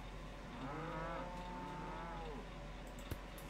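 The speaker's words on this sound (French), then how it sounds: "Je fais pas attention à la vache que je prends." A cow in the video game Old Market Simulator gives a single long, low moo, clear and steady over a faint hum, ending with a small click.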